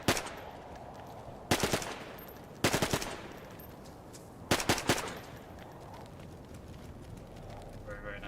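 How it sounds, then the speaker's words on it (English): Automatic weapon fire in the video game DayZ comes in three short, sharp rapid bursts separated by quiet pauses, fairly near and clear against a low background. "Very, very nice gun. Got a decent rate of fire as well, actually."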